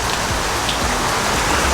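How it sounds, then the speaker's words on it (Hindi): Heavy rain pouring down steadily, a dense, loud, even hiss of drops on surfaces close by, continuous throughout with no voices. "अब देखो क्या खतरनाक बारिश हो रही है।"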